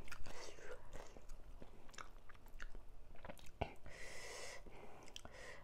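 Crisp pork papaya salad being chewed up close: wet, crunchy bites and mashing sounds repeat steadily for several seconds, with a brief sharp crack partway through and no talking.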